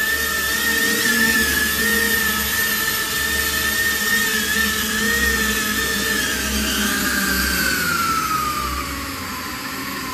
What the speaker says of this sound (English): And then we're going to do a quick landing. This reduces the power and gently bring it to the ground.